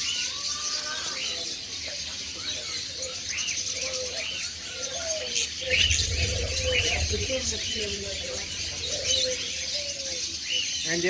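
Caged pigeons or doves at the Doha bird market coo steadily while smaller birds chirp and tweet throughout, a busy, close chorus with people talking underneath.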